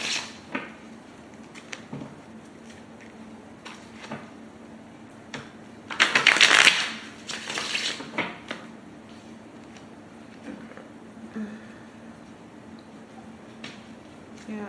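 Tarot cards being shuffled by hand, a dense riffling burst of about two seconds in the middle with a few softer card taps before and after, fairly close against a quiet room.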